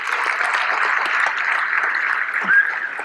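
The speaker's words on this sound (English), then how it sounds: "Give him another round of applause" An audience gives a trading student another round of applause, a brief continuous patter of clapping at moderate level that stays even throughout.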